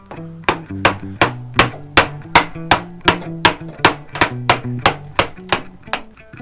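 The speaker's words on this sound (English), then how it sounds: "With your series of cuts in place and a chisel and a mallet, go ahead and start removing this material that's been left over." A chisel driven by a mallet chips out leftover wood from a cigar box guitar body, producing a steady series of sharp, evenly spaced knocks, about three per second, close and with no voices.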